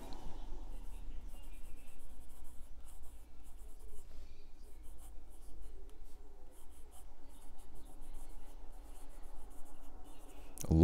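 A black Sheaffer No Nonsense fountain pen with a medium nib writes on paper, giving a faint, continuous scratchy rustle of nib strokes throughout, quiet and close with no voices.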